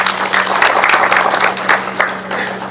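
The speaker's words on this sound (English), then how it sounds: "Please clap for them." An audience claps for long-serving national exam markers at an official results release, a lively, uneven patter of hands over a steady low hum from the room's sound system.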